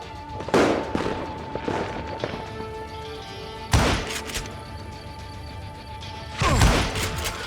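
Three loud, sharp gunshots spaced a few seconds apart in the Western shooter Call of Juarez Gunslinger, each ringing out over a steady tonal hum and quieter game ambience.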